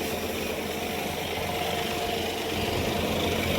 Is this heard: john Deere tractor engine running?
yes